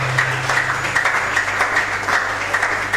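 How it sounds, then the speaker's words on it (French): Church audience at a book launch applauding pastors with loud, close, sustained clapping in a fast, uneven rhythm over a low steady hum. "nous acclamons très très fort"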